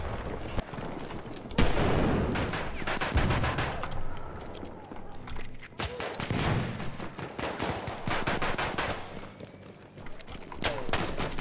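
Pistol fire from a Kolibri in Battlefield 1, with scattered sharp shots amid a busy, noisy battlefield mix of distant gunfire and commotion, voices faintly in the background.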